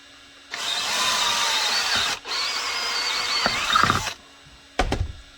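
Power drill boring holes through a Glock 30 holster, loud steady whine running about three and a half seconds with a short break midway, then a brief second burst near the end; no talk.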